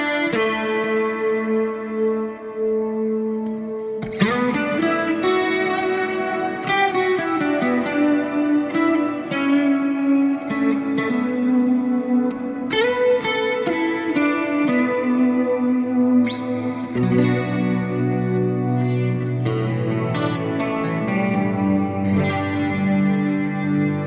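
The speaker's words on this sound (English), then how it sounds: "the dry signal and the affected pitch shifted shimmer reverb" Electric guitar played through an AmpliTube pitch-shifted shimmer reverb, sustained chords blooming into a bright, octave-up wash with long echoing tails, the dry notes blended under the shimmering effect.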